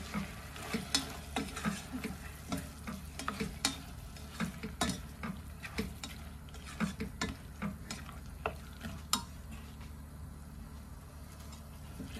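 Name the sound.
stirring and frying squid in a pan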